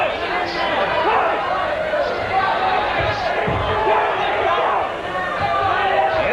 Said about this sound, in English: with the crowd cheering him on